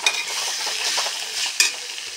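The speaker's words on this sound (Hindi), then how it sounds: "आलू को भी हम कम से कम 3-4 मिनट इसमें फ्राई करेंगे मसाले में ही" Potatoes fry in spiced masala in a pan, a soft steady sizzle with stirring scrapes and a brief louder clink near the end, no voices.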